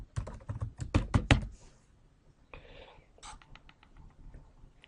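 An email address is typed on a computer keyboard: a quick run of close key clacks, then a pause and a few sparser taps, with no talking.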